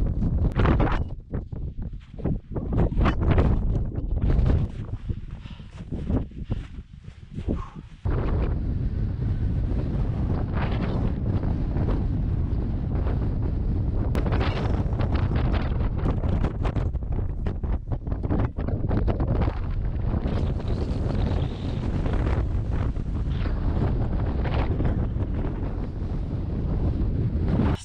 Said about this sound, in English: It's really windy up here, so the audio is not great.